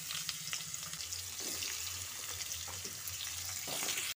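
Chopped pumpkin frying in hot oil with five-spice, a soft, fairly quiet sizzle with scraping stirs and occasional light pops, ending with a brief knock.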